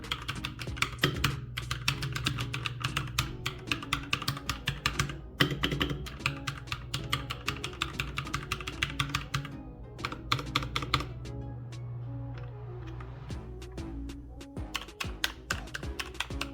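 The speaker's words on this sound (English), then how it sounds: "Now, let's test the typing sound." Rapid, steady typing on a Royal Kludge RK84 gaming keyboard with ABS double-shot keycaps, close and crisp with continuous clicking keystrokes and a brief lighter, sparser stretch near the middle.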